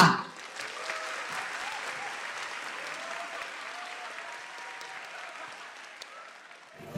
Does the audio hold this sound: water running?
no